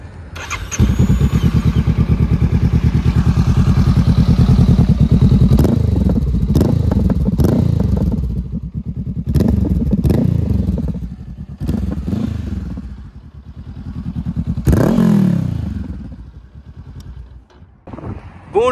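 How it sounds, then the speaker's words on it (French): A Honda CB500 motorcycle fitted with an aftermarket exhaust silencer starts up close by and idles with a deep, rapid burbling pulse, blipped several times with rising and falling revs before settling. "Donc là, je vous démarre la moto,"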